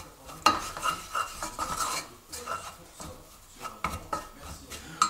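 Choux pastry dough is stirred in a saucepan to dry it out, quiet scraping and rubbing strokes of a spoon against the pan bottom with small metallic clinks, in an uneven, close rhythm.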